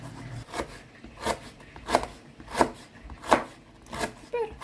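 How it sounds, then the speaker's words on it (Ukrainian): A knife slicing cabbage thinly on a board, a series of about eight crisp, evenly spaced cuts, each a short crunchy chop, heard close over a quiet room. "ріжемо капусточку. Ось такими тоненькими шматочками."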